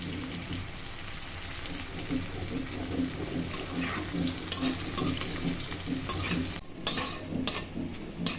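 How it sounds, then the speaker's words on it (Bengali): Slices of teasel gourd (kakrol) fry in hot oil with a steady close sizzle, broken by occasional stirring and scraping; a brief dip partway through, with no talk. "মাঝারি আছে আমি ৪ থেকে ৫ মিনিট ভেজে নিচ্ছি।"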